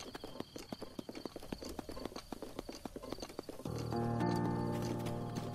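Overworld ambience from the video game The Legend of Zelda: Breath of the Wild: a horse trots with steady clip-clop hoofbeats, then a soft sustained tone swells in beneath them, fairly quiet and with no voices.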